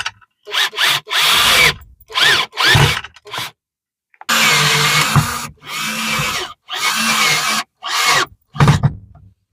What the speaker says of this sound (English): Some self-tapping screws, and basically make my own holes. But luckily this is just aluminium, so it's a lot softer than steel to get in.